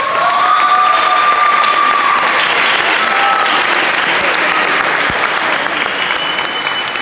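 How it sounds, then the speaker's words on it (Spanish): An audience at a municipal youth orchestra concert applauds loudly and continuously with scattered cheers, a dense wash of clapping that fills the whole stretch without letting up. "Un fuerte aplauso para él."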